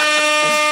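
A timer alarm gives off a loud, steady electronic buzz up close, a continuous harsh tone lasting under a second with no break.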